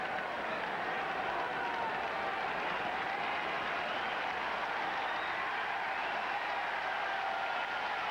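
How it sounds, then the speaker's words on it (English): A baseball crowd at a Texas at Boston game applauds and cheers for the pitcher, a continuous wash of clapping and crowd noise from a large stadium audience, steady and sustained throughout. "Again, the crowd trying to get behind Derek Lowe."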